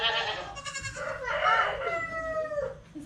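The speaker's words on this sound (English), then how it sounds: "Is that the new baby goat?" A newborn goat kid on a farm bleats in several thin, wavering cries close by, with a rooster-like call and faint farmyard background mixed in.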